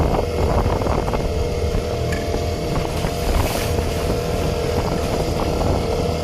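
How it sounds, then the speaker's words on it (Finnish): A single-cylinder boat motor drones close by on open water, a steady throbbing hum with wind buffeting over it and no pauses. "Mua pelottaa, että tuo moottori ei jaksa vedässä yhdellä pytyllä."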